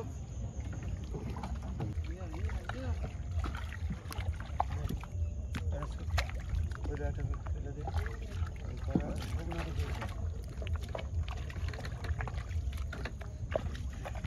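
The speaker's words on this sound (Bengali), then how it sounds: "আমি নৌকাটা নিয়ে আসছি।" A rowboat moving on a river during winter fishing with a char-pata net, carrying steady low wind and water rumble with faint knocks throughout, and voices talking over it.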